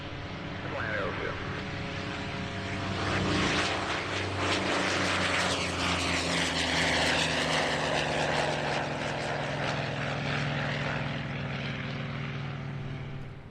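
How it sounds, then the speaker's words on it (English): A Calair Model A2, a rare two-seat 1940s propeller utility aircraft, lands at an airshow with a steady, droning propeller engine that swells and holds loud throughout, mixed with distant crowd and radio chatter. "a Calair Model A2, a 2-seat utility aircraft of which just 16 were built back in the 1940s."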